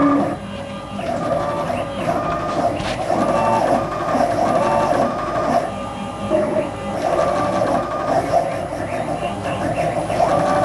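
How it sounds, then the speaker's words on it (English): A DIY CNC router traces a 3D carving program with its spindle switched off, giving a steady mechanical whirring of stepper-driven axes with shifting tones, continuous and fairly loud throughout. "I'm going to run this code and see how it does off router cutting, without the router cutting."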